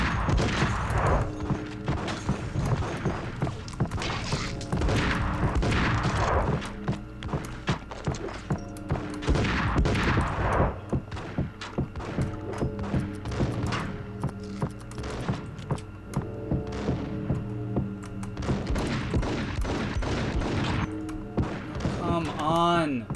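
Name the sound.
gunfire in the video game Max Payne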